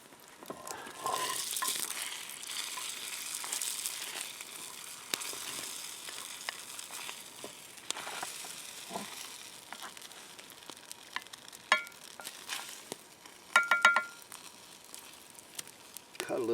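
Bacon frying on a wire over an outdoor wood fire, a steady soft sizzle with scattered pops and crackles, plus a few clinks near the end.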